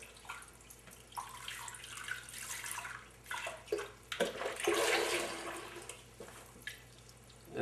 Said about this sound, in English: We're going to pour all of it in there.